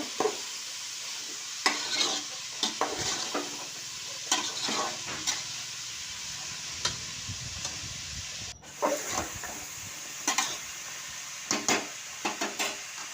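A sambar base for ridge gourd sambar fries in a pan with a steady, close sizzle and hiss, broken by repeated scraping stir strokes of a spoon against the vessel; no one speaks.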